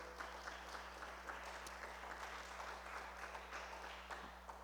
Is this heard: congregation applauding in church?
yes